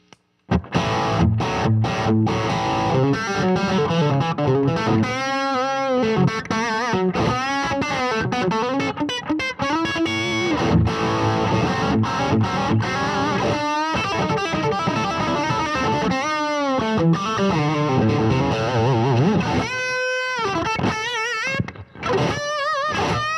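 Fender Elite Telecaster on its bridge pickup through a dirty, saturated high-gain amp channel, playing loud, continuous distorted riffs and chords with a few brief pauses, alone without talk.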